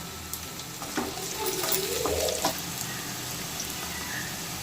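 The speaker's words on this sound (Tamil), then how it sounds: "இப்போ இது கூட எடுத்து வச்சுருக்க பூண்டு ஆட் பண்ணி நல்லா கிளறி விட்டுக்கலாம்" Garlic sizzles in hot oil with softened onions in a pan for vanjaram fish curry, soft steady frying with a few scraping stirs near the middle, fairly quiet and close.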